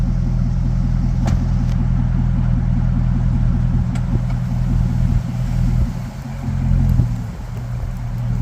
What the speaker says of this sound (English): we're going to see if it'll move under its own power